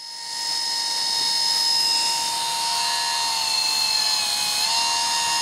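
A small Chinese electric motor running on battery power gives a steady high-pitched whine that holds constant after a quick spin-up, close and fairly loud, with the pitch dipping slightly near the end and no talking.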